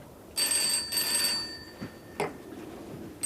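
An old landline telephone bell rings in two loud, bright bursts, then stops, with a few faint knocks and soft movement afterward; no one speaks.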